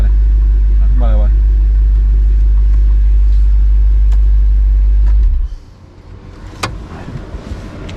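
An Audi R8 engine idles with a heavy low rumble while a person talks over it. The engine shuts off partway through, leaving quiet room sound and a few small clicks.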